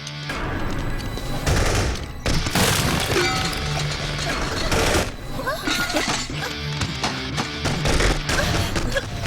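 Rapid bursts of gunfire in an action movie shootout, loud and dense, with crashing impacts and brief pauses between volleys.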